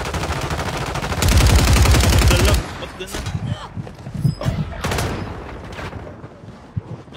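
Loud, dense burst of rapid video game gunfire for about a second and a half, followed by scattered shots and effects while players talk over team radio chatter.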